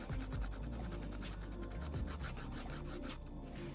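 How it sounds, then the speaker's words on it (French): A nail file rubs back and forth over fingernails during a resin and powder manicure, giving quick, close, scratchy strokes in a steady rhythm, heard alone without talking. "on va venir limer les ongles"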